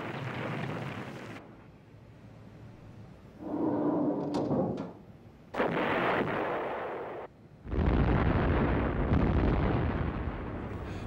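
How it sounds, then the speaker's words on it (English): Massive airstrikes and artillery bombardment open Operation Crimp in Vietnam's Iron Triangle: heavy, loud blasts and rolling booms arrive in several separate bursts, with rumbling tails and gaps of quieter low noise between them. "Operation Crimp began with massive airstrikes and artillery bombardments"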